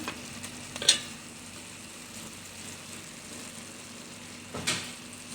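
Steak with mushrooms frying in a pan, a continuous soft sizzle with a few louder stirring scrapes near the start and end.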